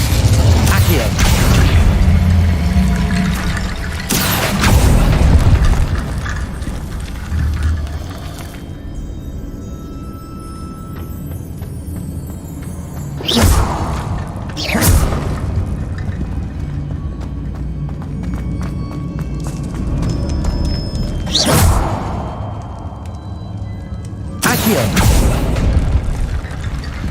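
An Accio spell in Hogwarts Legacy drags a platform closer, heard as a clanking mechanical rumble with several sharp, loud bursts spaced out over a steady low drone.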